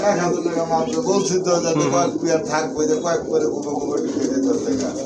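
Bombay pigeons coo softly and repeatedly beneath someone talking close by, their low, throaty calls mixed with rustling.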